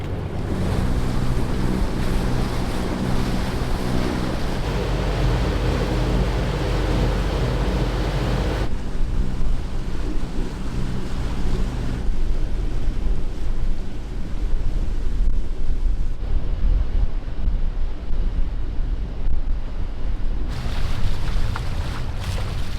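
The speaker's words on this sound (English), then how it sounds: "it looks like the waves are breaking like right in front of the rock" Ocean surf breaks on the shore just in front of a rock, heard from a sailboat as a constant roar of waves mixed with gusty wind buffeting the microphone, with no talking.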